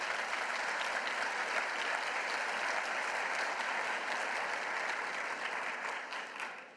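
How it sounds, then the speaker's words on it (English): An audience at a university president's fall address breaks into steady, full applause that holds for several seconds before starting to taper off at the end. "You should give yourselves a round of applause."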